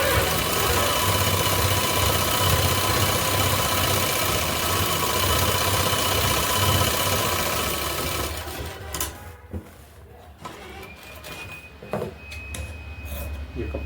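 An electric sewing machine stitches a suit, a continuous close whirring drone for about eight seconds that then stops, leaving quieter handling noises and brief sounds of fabric being moved.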